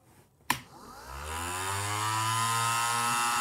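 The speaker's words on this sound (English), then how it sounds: "So I'm gonna just turn it on now, and you'll be able to see the fan spinning." A battery-powered motor fan on a makeshift wave pool air blower switches on with a sharp click, then whines up in pitch as the blades gain speed and settles into a loud, steady, buzzing drone.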